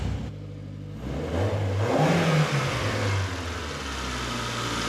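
Ford Mondeo Mark V with a 2-litre black top Zetec engine revving close by: a quiet idle jumps to a rising rev, holds and settles back into a steady hum, with no talk.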